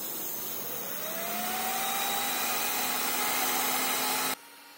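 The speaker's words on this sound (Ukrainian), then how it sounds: "Сейчас вентилятор включился." A cooling fan spins up beside some electronic equipment drawing about 334 watts, its rising whir steady and fairly loud, then cuts off abruptly near the end.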